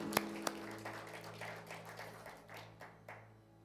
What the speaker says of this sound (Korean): 우리 모든 영광 하나님께 박수로 드리도록 하겠습니다.